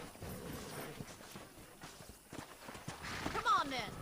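Horse hooves clip-clop in Red Dead Redemption, a steady walking rhythm of muffled hoof falls heard at moderate distance under ambient game sound, with a brief swell of noise near the end.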